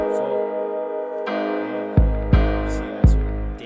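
Deep 808 bass hits in an FL Studio beat, three booming thumps in the second half landing under a sustained synth melody, loud and close.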